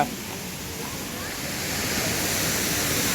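Vattai waterfall sends out a continuous, full rushing roar of falling water, steady and close, swelling slightly louder toward the end.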